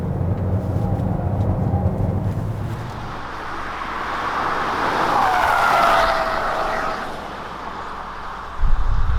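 A 2020 Kia Seltos on Kumho tires takes corners, giving steady loud road and engine noise with a rising, swelling rush midway, heard from inside the car with no talking.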